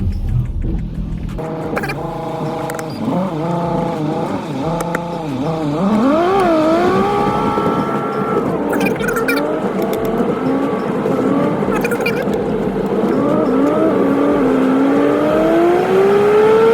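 A turbocharged MK5 VW Golf R32 being driven while warming up, engine note rising and falling through gear changes and then climbing steadily, loud and continuous from inside the car.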